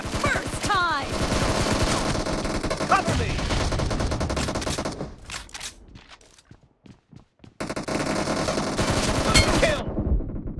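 Gunfire from the Battlegrounds video game, with loud rapid bursts of automatic shots, then a brief lull of scattered single cracks before heavy firing resumes.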